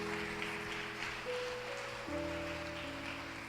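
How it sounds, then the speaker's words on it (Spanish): A church congregation applauding during a Sunday service, a soft, even patter of clapping held under sustained music tones throughout. "Aplaude al Señor."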